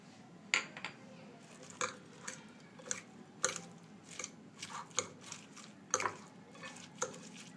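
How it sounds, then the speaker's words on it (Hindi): Shredded cabbage, carrot and black pepper are mixed into mayonnaise in a bowl for a homemade burger. A spoon gives a run of wet squelches and light clinks on the bowl in an irregular rhythm, fairly faint and close. "सबसे पहले हम मायोनीज़ में बंद गोभी ऐड करेंगे, साथ ही इसमें हम अपना गाजर ऐड करेंगे और काली मिर्च भी, और इसे अच्छे से मिक्स करेंगे"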